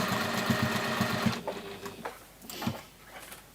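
A sewing machine stitches a sausage dog appliqué with a fast, even mechanical chatter for just over a second, then stops, leaving a few soft clicks and fabric handling sounds.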